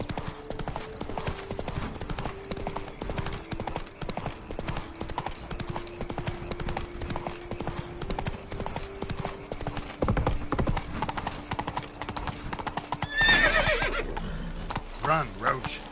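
Roach the horse gallops in The Witcher video game, steady rapid hoof clip-clops running throughout, with a whinny near the end and speech over it.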